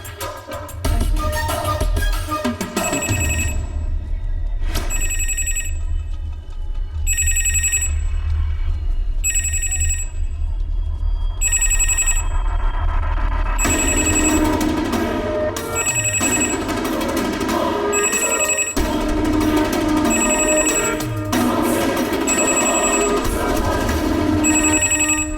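A telephone rings over and over in a Hindi film scene, a bright repeating bell-like ring in regular bursts that carries on at full volume for over twenty seconds alongside background music.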